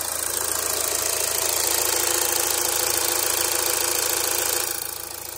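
A 2014 Volkswagen Jetta 2.0 TDI diesel engine with a leaking EGR cooler idles up close, a steady knocking clatter with a faint rattle that drops slightly in level near the end.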